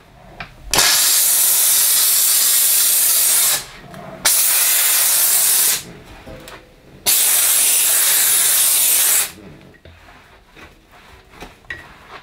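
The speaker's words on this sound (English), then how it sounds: "I got this steam clean, I thought the first thing I'm gonna do is tackle any crud that's down the side of my hob" A Dupray Neat steam cleaner blasts crud beside a kitchen hob, three loud, steady hissing bursts of a few seconds each, cut off sharply with short quiet gaps between.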